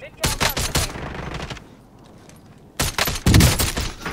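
Gunfire in a video game comes in rapid bursts, a fast clattering volley at the start, a short lull, then more loud shots near the end.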